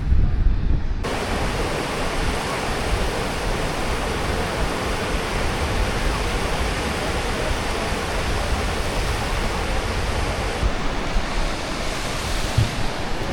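Strong wind in Puerto Rico, Gran Canaria, buffets the microphone in a constant, loud rushing roar, like gusts blowing across open ground, with no voices heard.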